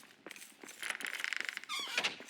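Adamant door in the Great Forge of Narvi base in the video game Return to Moria squeaking and creaking as it swings, a sequence of close, fairly quiet high squeals rising toward the end, with no talk.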